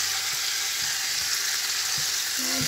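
Chicken pieces fry in a pan with a loud, dense, steady sizzle and crackle, close up and uninterrupted, with a few soft low knocks underneath.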